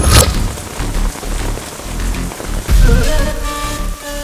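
Steady heavy rain pours down in a dense, continuous hiss, with a low rumble swelling partway through.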